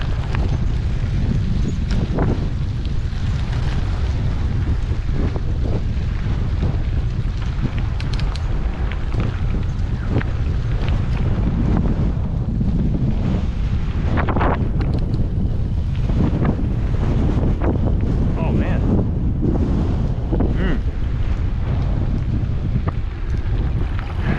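Strong wind roars across the microphone during a 100-mile gravel bike race, a loud continuous low rumble with buffeting gusts throughout and no talking.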